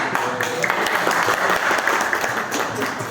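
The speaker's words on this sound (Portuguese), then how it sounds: "Salve de palmas para" A crowd claps steadily and loudly throughout, a dense burst of applause with no voices standing out.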